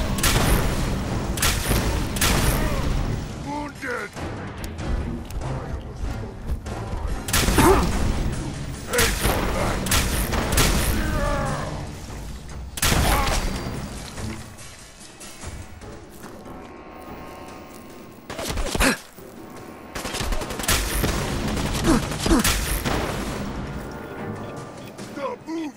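An Artifact gun fired in Fallout 4, loud crashing blasts with heavy knockback impacts recurring every few seconds amid game noise, while someone talks throughout.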